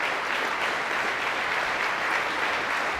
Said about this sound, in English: How about a round of applause for Mr. Spierig, folks?